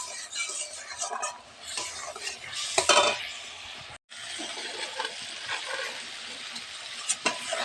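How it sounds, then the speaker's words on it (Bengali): A spoon works through an egg and spice curry in a pan, scraping and clinking against the metal over a soft frying sizzle, close and irregular with a brief pause midway. "ভালো করে একটু নেড়ে দেব।"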